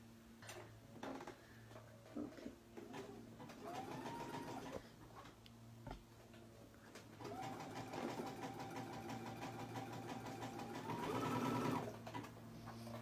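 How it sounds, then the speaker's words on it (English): Sewing machine stitching lace over a header, its steady mechanical whirring running in long continuous bursts with a short pause between, loud and close with no talking. "I'm just stitching right over top of the header"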